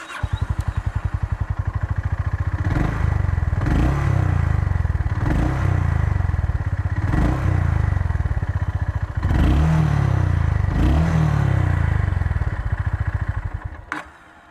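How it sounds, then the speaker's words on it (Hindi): Idling exhaust note of a Hunter 350 or Honda CB350 RS motorcycle, a close, steady low thump with a few short throttle blips rising and falling, then cutting off at the end. "अब एक बार इसका एग्जॉस्ट नोट आपको सुनाते हैं।"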